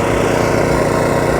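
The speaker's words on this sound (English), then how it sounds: "It's got a 215 litre tank on it, 6 horsepower petrol engine, belt driving a 3-piston pump" A spray trailer's 6 horsepower petrol engine belt-driving a three-piston pump runs loud and steady close by, a constant rough mechanical drone with no talk over it.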